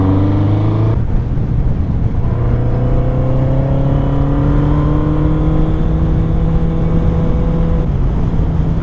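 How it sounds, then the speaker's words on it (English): A car engine rising steadily in pitch as the driver gets on the throttle on a road under construction, loud and close with a brief shift break near the start, no talk. "I love just doing that, getting on the throttle, just sound just the same, right?"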